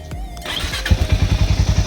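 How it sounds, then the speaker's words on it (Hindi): A Hero Mavrick 440, a 400cc cruiser motorcycle, cranks with a brief starter whir before the engine catches and settles into a loud, rapid, even thumping close by. "सो इस बाइक को हम अभी ऑन करेंगे।"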